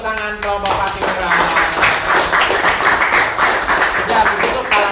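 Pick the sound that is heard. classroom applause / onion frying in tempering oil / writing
classroom applause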